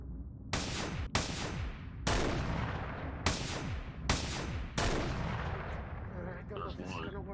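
Video game gunfire in six heavy, booming shots spaced about a second apart, each with a sharp crack and a long decaying tail, followed by fainter electronic sounds.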